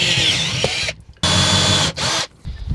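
A power drill fitted with a large bit bores through a campervan wall, loud whining bursts starting and stopping in three close runs separated by short pauses.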